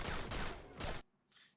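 Three sharp, loud gun blasts in quick succession from a handgun in a shootout, followed by a brief quieter pause and a faint metallic ring.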